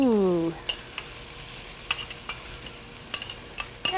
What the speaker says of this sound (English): And now I'm going to saute my onions.